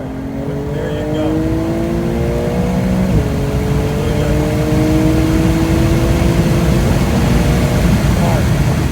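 A race car accelerates hard through a hot lap on a track, the engine's rising howl loud and close from inside the cabin, with a brief dip as it shifts gear before climbing again, while a coach's voice talks over it.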